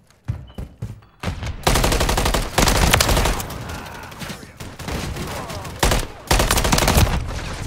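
An MCW assault rifle in the Modern Warfare 3 video game rips off loud, close bursts of automatic fire, broken by brief pauses and mixed with other gunfire through a chaotic firefight.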